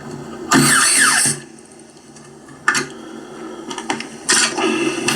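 Retro 1990s TEAC PowerMax 60-2 PC speakers, just repaired, blare at full volume in harsh, loud bursts, with a long blast at the start and shorter jolts afterward separated by quieter gaps.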